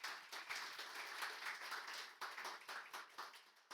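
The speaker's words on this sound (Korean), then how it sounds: "격려하면서 한 번 더 크게 박수하겠습니다." Congregation at a Friday-night church prayer meeting applauding: dense, steady clapping from many hands that fills the room, with slight swells and a brief dip near the end, and no speech over it.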